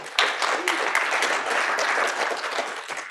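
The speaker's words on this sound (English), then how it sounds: "Give yourselves another round of applause." A conference audience at a Django and Drupal talk breaks into steady applause. Many hands clap densely and evenly for a few seconds, filling the room close at hand with a bright, sustained crackle.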